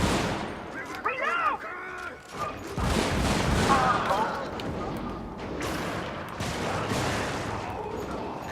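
A recoilless rifle fires in a video game, heavy booming blasts landing at intervals amid ongoing battle noise, with a voice talking over part of the action.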